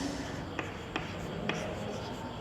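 Handwriting notes with a pen on paper gives a soft, continuous scratching close by, broken by a few sharp taps as the pen lifts and lands, about one every half second.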